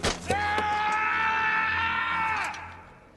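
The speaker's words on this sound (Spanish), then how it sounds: "el grito que escuchas en la película" A drawn-out, loud scream of real pain from a film scene, one sustained cry lasting about two and a half seconds with a sharp onset and a fading tail.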